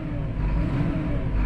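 The 6-cylinder, 150-horsepower engine of a Massey Ferguson 7715 Dyna6 tractor revs under throttle. It makes a loud, close, steady low rumble that is heard alone, with no talking.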